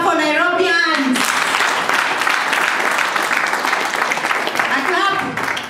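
Seminar audience in Nairobi applauding: a broad, sustained wash of many hands clapping for about four seconds. A voice speaks over the start and again near the end.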